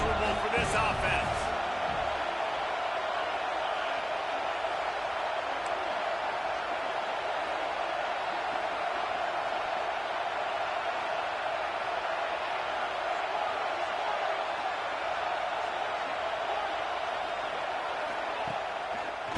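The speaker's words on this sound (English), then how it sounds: "This crowd trying to make life miserable for this offense." Steady roar of a football stadium crowd making noise against the opposing offense, a dense wash that holds constant throughout, distant and unbroken.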